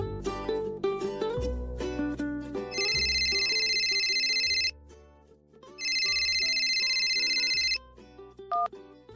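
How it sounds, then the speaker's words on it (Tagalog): A cellphone rings with an incoming call from an unknown number, loud and alone, as two long bursts of repeated electronic ringtone tones over a music bed. "nagulat na lamang ako nang may tumatawag na unknown number sa aking cellphone"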